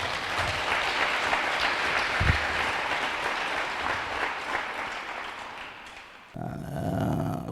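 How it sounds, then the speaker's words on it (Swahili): A large crowd at a national church leadership election assembly claps loudly and steadily for several seconds, the dense applause dipping briefly before picking up again at the end. "mpe Yesu makofi"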